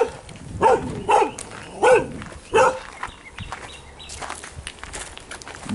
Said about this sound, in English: This one is a good dog.